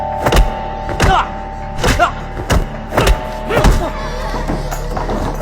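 Repeated heavy thuds of a person being beaten, about seven dull blows in an irregular, close, loud sequence with no talk over them.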